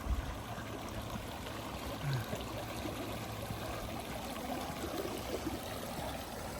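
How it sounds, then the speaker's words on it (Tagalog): A waterfall pours steadily outdoors, making a continuous broadband rush of flowing water with no breaks, moderately loud and somewhat distant. "meron dito ano, waterfalls"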